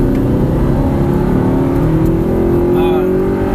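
A car accelerates hard out of a corner on a race track, its engine note rising steadily in pitch, loud and close, with someone talking over the engine.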